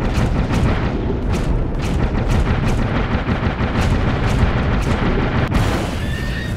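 Gunfire in the Dave the Diver video game with the Godzilla DLC: a steady run of loud, evenly spaced shots about twice a second over a dense rumbling game soundscape, with no talk.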